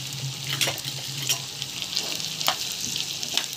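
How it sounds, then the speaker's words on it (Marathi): Sabudana and cooked potato sizzle and fry in a pan while being stirred, a steady close crackle broken by several brief scraping strokes of the spoon, with no talk. "आणि चांगलं मिक्स करून घेऊया।"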